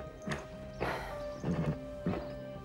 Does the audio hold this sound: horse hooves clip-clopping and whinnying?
yes